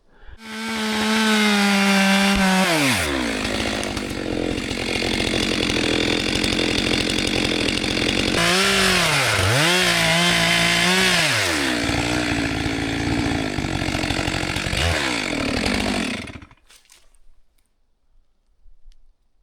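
A chainsaw cuts into a storm-damaged, wind-felled tree, roaring loud and close for about sixteen seconds with revs dipping and rising as the chain bites, then cutting off to near silence.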